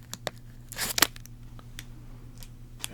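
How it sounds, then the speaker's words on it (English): The top piece of plastic wrap pulled off a playing card deck: a few close crinkly snaps and one louder tearing rip in the middle, followed by scattered soft crackles. "Tilting out the top bit of plastic."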